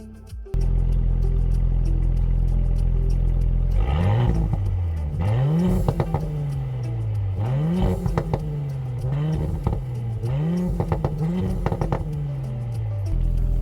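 A 2019 Audi S4 (B9) engine idles low, then revs repeatedly in rising sweeps, each drop followed by crackling exhaust pops and burbles, loud and close.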